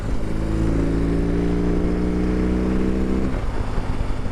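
A BMW R18 Transcontinental Option 719 motorcycle cruising near highway speed, its steady low engine drone and rising harmonics continuous and close throughout, with no talking.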